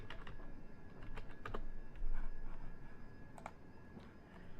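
Quiet keystrokes on a computer keyboard tap in irregular bursts, soft and close, over a faint steady background hum.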